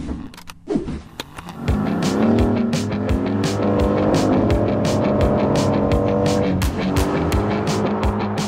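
A 2019 Aston Martin Vantage engine accelerates loudly and close, rising in pitch through the gears after a brief quieter start, with a rhythmic clicking or ticking running over it.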